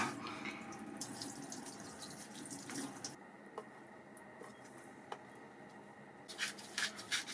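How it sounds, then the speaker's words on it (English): Water from a tap runs steadily over a knife and a fish fillet being rinsed in a sink, with soft splashes and a few brief knocks near the end, no one talking. "give my little knife rinse, is that all good? Slide my fish out, bam, wash that fillet."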